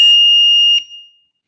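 A loud, steady electronic alarm tone from an industrial signal light with selectable sounds, a single shrill high-pitched note that sounds for about three quarters of a second before cutting off and fading into silence.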